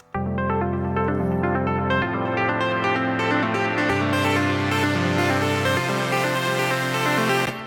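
A synth plays a moody minor pentatonic melody over sustained bass chords, layered and steady with no voices, shifting chords every couple of seconds.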